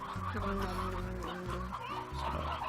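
Chickens in the video game Slime Rancher cluck and squawk in quick, overlapping bursts against a steady background tone, fairly close and continuous.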